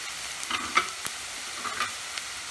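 Dry spices frying with chopped onions in a pan for Punjabi sarson ka saag, a steady soft sizzle with occasional stirring scrapes and clicks and no talk.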